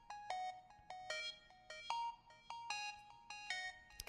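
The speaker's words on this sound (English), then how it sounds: "it kind of creates this like phasing kind of effect" Repeating synth notes with a swirling, sweeping phaser tone from an Ableton effect ring out in a steady pattern, fairly faint, with a soft low hum underneath.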